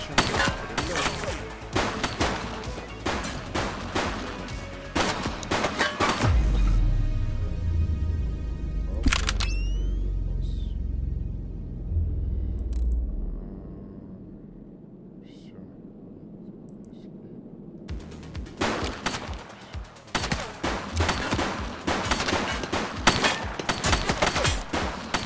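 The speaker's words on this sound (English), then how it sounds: "She's shooting!" Bursts of gunfire in The Precinct, a police video game, crackle loudly and rapidly at the start, fall away to a low rumble and a lull, then return as dense volleys at the end.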